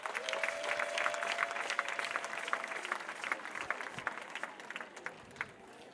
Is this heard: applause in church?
yes